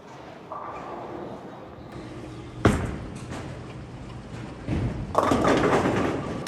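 A Motiv bowling ball is released with a thud and rolls down the lane with a steady rumble, then crashes into the pins with a loud clatter, all moderately distant amid bowling-alley ambience.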